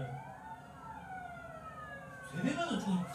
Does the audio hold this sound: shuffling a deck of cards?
no